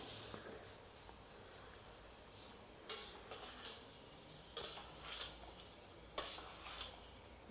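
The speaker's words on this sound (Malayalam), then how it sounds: "ഇറച്ചി അതിലേക്ക് ഇട്ട് കഴിഞ്ഞപ്പം ഇനി അത് ഇളക്കി ചേർക്കണം" Chicken pieces being stirred into masala in a pot, with soft scraping and a few sharp clinks of a utensil against the pot over a quiet background sizzle.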